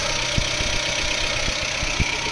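A second-hand car for sale at a used car market in Jorhat idles steadily up close, a constant low engine drone with faint periodic knocks and no talking over it.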